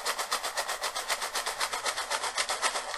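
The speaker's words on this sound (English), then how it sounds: "So I've got this shaker here with the smaller rocks" A homemade shaker filled with small rocks is shaken in a steady fast rhythm, giving bright, gritty rattling pulses about five per second, close and loud with no talk.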